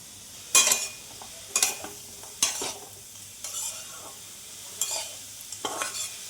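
Jaggery stirred in a hot pan, likely with coconut, gives about six separate scraping strokes against a faint background sizzle; each stroke is sharp and close with short pauses between, and no one talks.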